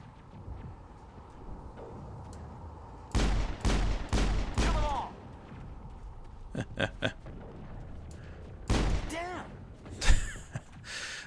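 Irregular clusters of gunshots in Mass Effect, fired at wildlife, some in quick bursts and others single sharp cracks, moderately loud over a quiet ambient background, with no voices.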